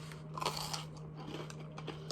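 A crunchy fried Taco Bell caramel apple empanada is bitten and chewed up close, with several crisp crackling crunches in quick succession and no talking.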